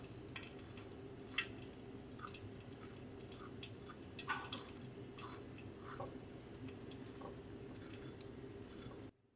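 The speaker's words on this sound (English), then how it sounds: "And now, the sound of crispy crust." Gyro chicken pieces with a crispy crust dredged in plain flour crunch and squish in a series of short, close bites and chews over a low steady background hum, with no talking.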